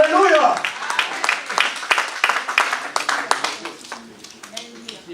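A church congregation at a French-language sermon claps and applauds in a burst of scattered claps that starts loud and gradually thins out, with a preacher's voice speaking over it at the start.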